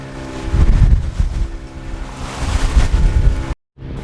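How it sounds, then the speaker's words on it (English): A boat speeds over choppy ocean waves off Zanzibar, with loud wind buffeting the microphone and low rumbling hull slaps, cutting briefly to silence near the end. "We got into the boat again to head out to the best reef around the whole island of Zanzibar"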